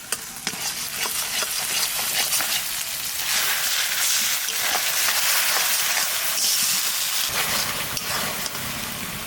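Onion paste sizzles steadily in hot oil in a pan for a home-style chicken curry, after cardamom, cumin, bay leaf, dried chillies and ginger-garlic paste, with stirring scrapes throughout and no voices.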